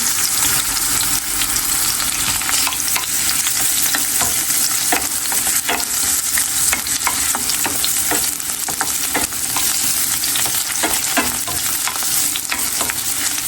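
Garlic and onion sautéing in a hot pan, a loud continuous sizzle with frequent crisp scraping and tapping from stirring, and no voices.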